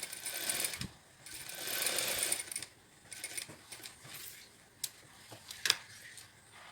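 A sewing machine runs a temporary basting stitch along an invisible zipper in short, faint bursts of whirring, mixed with scattered light ticks and clicks nearby.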